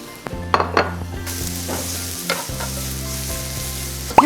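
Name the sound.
garlic and aromatic vegetables sizzling in oil while stirred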